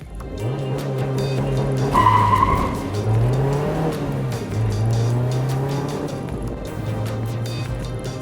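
A Mazda MX-5 Miata on Hankook Ventus Prime 4 tyres in size 215/45 R17 driven along a winding road, its engine humming and rising and falling through the bends, with a brief tyre squeal in one corner.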